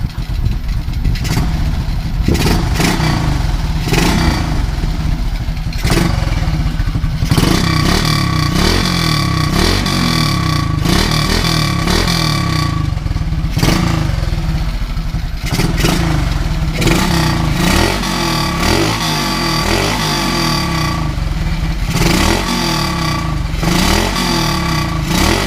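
A Honda Wave 125 motorcycle engine idles close by while warming up after restoration work, its throttle blipped into repeated rising revs that fall back to a rattly idle, loud and steady throughout.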